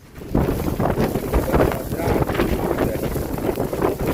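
Strong storm wind at St Lucia Estuary during a storm surge, roaring and buffeting the microphone loudly and continuously with gusty surges throughout.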